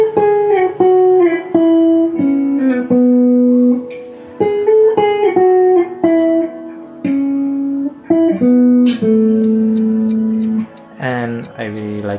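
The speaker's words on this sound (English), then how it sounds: "I just played the main chorus melody but on the guitar" Electric guitar playing the main chorus melody of a song through an amp, a clear, steady single-note line with sustained tones and a few quick runs, close and prominent throughout with no talk over it.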